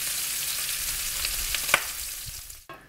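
Chorizo juices fry in a pan, a close, steady sizzling hiss with a sharp crackle partway through, fading slightly before a sudden clunk near the end.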